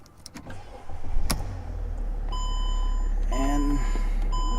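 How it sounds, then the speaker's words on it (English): A 2009 Mercedes E320 Bluetec diesel cranks and fires up, a sharp click followed by the engine catching and settling into a steady, close idle with electronic chimes sounding over it. "Now I'm going to start the vehicle."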